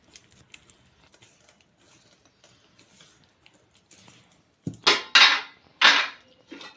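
Salted rice flour batter is stirred in a vessel, starting with soft, sparse scraping and ticking and then turning into several loud, close clattering scrapes of a utensil against the pot.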